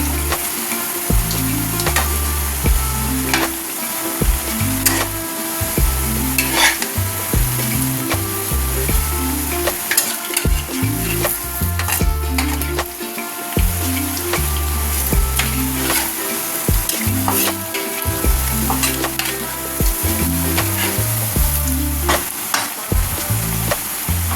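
Lentil cakes (dhoka) frying in hot oil until brown, a steady loud sizzle running throughout with repeated rhythmic low thumps and scrapes from a utensil moving in the pan.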